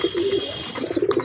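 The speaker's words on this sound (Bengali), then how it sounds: "লালদুমা পায়রা আছে। একদম সেট এখানে আছে পায়রা দুটো।" A pair of red-headed pigeons coos softly and close, a few rounded low coo phrases following one another with no talk.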